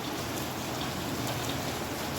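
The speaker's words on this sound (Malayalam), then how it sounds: "നല്ല മഴയാണ് ഇപ്പോൾ ഇവിടെ" Steady Kerala rain falling, a dense even patter of drops hissing continuously, close and moderately loud with no voices.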